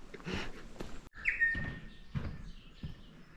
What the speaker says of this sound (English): There's some parrots chirping their heads off around me.